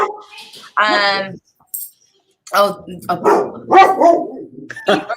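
Dogs bark in short bursts at moderate distance, mixed in with people talking on a coaching call.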